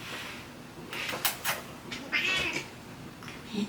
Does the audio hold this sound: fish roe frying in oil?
no